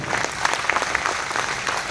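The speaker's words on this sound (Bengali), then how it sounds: "একবার অর্পিত স্যারের জন্য জোরদার হাততালি চাই" An audience claps in a steady dense burst of applause, loud and close, filling the whole moment without voices on top.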